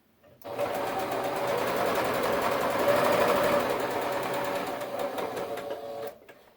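A sewing machine runs steadily while stitching a bubble quilt, its motor whirring continuously at close range for about six seconds before stopping.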